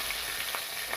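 Chicken frying in oil over medium-low heat, an even close sizzle with faint scattered pops and no voices.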